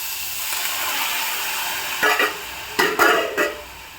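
Chopped ingredients stirred and sautéed in a pan, a steady low frying hiss broken by several short scraping stirs near the end, close and clear with no talking.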